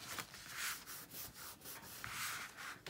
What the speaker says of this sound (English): Lining this up on the score line. And press it down.